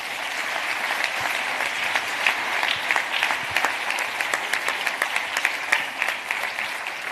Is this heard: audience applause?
yes